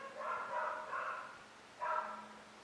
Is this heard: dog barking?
yes